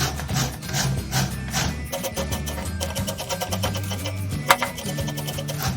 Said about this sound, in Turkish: Pancarımı rendeledim